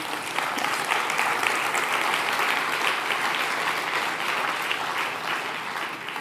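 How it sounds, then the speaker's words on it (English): Conference audience at an opening plenary applauds, a dense steady wash of clapping from many hands that holds evenly throughout and tapers slightly at the end. "So perhaps a round of applause there for the partners."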